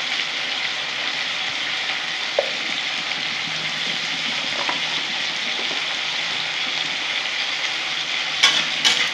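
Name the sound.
potatoes and pointed gourd frying in a pan with turmeric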